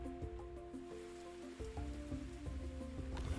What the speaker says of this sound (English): This is rain on wet canvas and occasional forest noises and so forth.